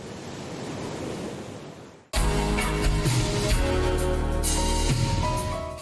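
Ocean waves wash in a steady, soft surf roar in the video game GTA 5, then cut abruptly to a louder, dense tonal backdrop with no talking.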